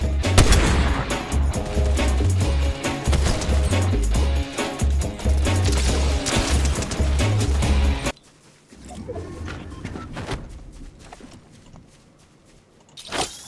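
An enemy's gunfire in Fortnite comes as rapid, dense shots, loud and close, over a pounding bass-heavy backdrop for about eight seconds, then drops away to quieter game ambience with a last shot at the end.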